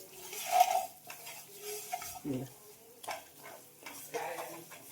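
Sugar being stirred into a thick, reduced milk mixture for ladoo in a pan, with soft, irregular scraping and gentle sizzling strokes, fairly quiet and close, without talk.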